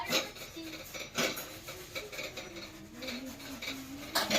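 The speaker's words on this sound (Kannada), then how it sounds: "ಇಲ್ಲಿ ಗ್ಯಾಸನ ತೊಳ್ಯಾಕತ್ತಾಳು" Scrubbing and clinking of metal on a gas stove being washed at home, with scattered knocks and rubbing strokes over a faint tonal hum, fairly close and moderate in level.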